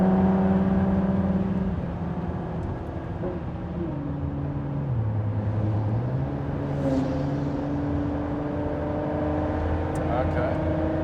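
A Ford GT engine drones steadily from inside the car on the Nürburgring, its pitch sagging and then climbing as it pulls up through the revs to overtake, with a faint whir throughout.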